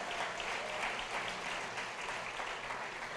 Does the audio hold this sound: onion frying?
no